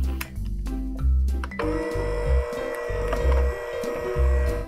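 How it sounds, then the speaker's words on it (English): An electric hand mixer whirs through dog treat dough in a bowl, a steady motorized hum that surges and eases in rhythmic passes as the beaters churn, close and fairly loud without talk. "And we'll use an electric mixer to mix."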